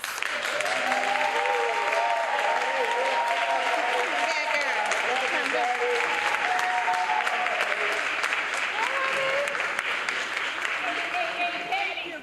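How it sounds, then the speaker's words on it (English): Sustained audience applause at a National Council of Negro Women Chicago event as a speaker is introduced, dense and loud throughout with a voice talking over the clapping. "Let's give a great round of applause for Dr. Patricia A. House."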